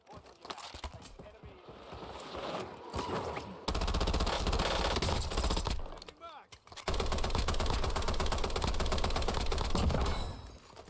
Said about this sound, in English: Maybe we'll just keep shooting until something stops moving